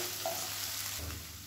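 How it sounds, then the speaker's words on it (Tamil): Chopped broad beans sauté in hot oil in a pan, giving a soft, faint sizzle with a light stir partway through. "இதை வந்து எண்ணெயில் நல்லா வதக்கிடலாம்."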